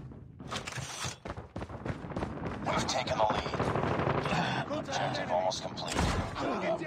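The D13 Sector saw launcher fires in Call of Duty Mobile multiplayer, loud blasts and rattling gunfire bursts layered with game effects while someone talks over the action.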